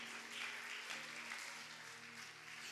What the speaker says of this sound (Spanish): ¿Alguien da un aplauso a la majestad de Cristo aquí?